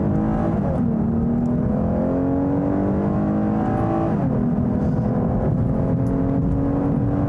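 A 2019 Lexus IS 350 F-Sport accelerates hard at full throttle, its engine note climbing steadily, dropping briefly at a gear change, then rising again, loud and close with no talk.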